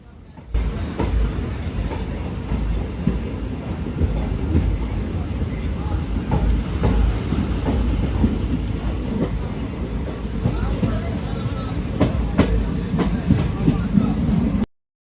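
A local train runs on rails near Amritsar in Punjab, a steady loud rumble of wheels and carriage noise with faint clicks, heard from on board with no talk.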